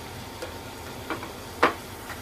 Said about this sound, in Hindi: मीडियम फ्लेम पे ये क्रिस्पी हो जाए तब तक इसे फ्राई करेंगे।